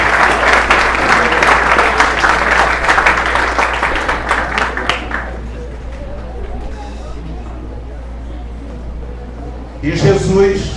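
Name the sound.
church congregation applauding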